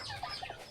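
A brooding hen sitting on her nest near a house clucks in a few short, close, soft bursts over a faint rural background.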